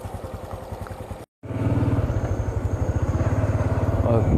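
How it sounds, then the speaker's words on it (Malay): A motorcycle engine running steadily as the riders set off again in a Thai village, with a pulsing engine note that fills the clip after a brief cut; voices talk over it. "ayo kita naik motor lagi"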